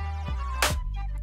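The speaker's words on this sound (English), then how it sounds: "it's a combination of a snare and a clap." A layered drum sample combining a snare with a cashmere clap hits once as a sharp bright burst, heard over a sustained tonal backing from an FL Studio beat.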